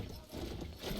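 A horse in the Battlefield 1 World War I shooter gives a brief, faint burst of muffled hoof movement, blended into noisy battlefield ambience.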